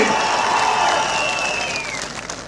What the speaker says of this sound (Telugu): గట్టిగా చప్పట్లు కూడా చెప్పండి సాధ్యమని